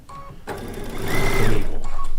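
A sewing machine stitches quilt fabric in one short, steady mechanical run, loud and close, with a quiet hum before and after.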